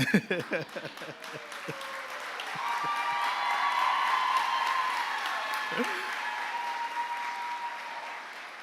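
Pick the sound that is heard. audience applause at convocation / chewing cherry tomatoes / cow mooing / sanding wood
audience applause at convocation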